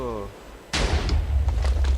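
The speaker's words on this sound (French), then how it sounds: "J'entends des bruits d'explosion là." A sudden loud blast erupts after a short tone, followed by rumbling booms and crackling bursts, with a voice briefly speaking underneath; explosions in Minecraft.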